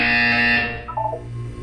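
A harsh electronic buzzer in the video game Portal 2 blares loudly and steadily for just under a second, then cuts off, leaving a faint low hum.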